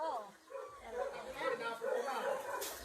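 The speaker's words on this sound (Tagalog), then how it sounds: "Tuta!" A small puppy yips and barks in a quick high-pitched run, close by, mixed in with people chatting around it.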